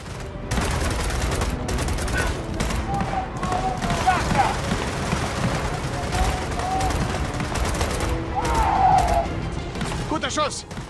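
Gunfire from the video game Gears of War 4, with rapid bursts and impacts running steadily through the scene over a dense game soundscape, while voices talk along with the action.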